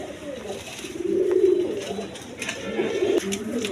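Satin pigeons of various colours coo softly up close in a low, rolling murmur, with a few overlapping calls swelling and fading.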